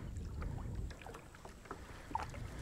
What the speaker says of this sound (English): Turn this kayak around.